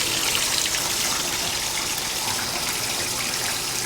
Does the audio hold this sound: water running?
yes